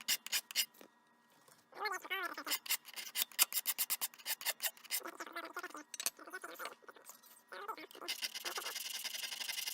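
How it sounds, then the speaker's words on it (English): Steel knife edge being worked with a hand file on a bench, giving a run of close, harsh rasping strokes in uneven bursts, with a spoken voice interleaved between passes. "That's about as aggressive a filing job as I think I can do it with good conscience."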